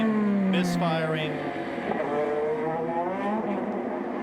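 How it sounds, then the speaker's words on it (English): A sick IndyCar engine with a fuel pickup problem runs roughly down pit road, its tone wavering and uneven under a brief stretch of talk. "You can hear it sputtering,"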